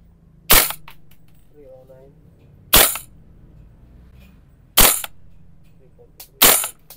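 A VFC SR16 airsoft rifle fires four single sharp cracks, each about two seconds apart, loud and close, into a chronograph in a quiet space.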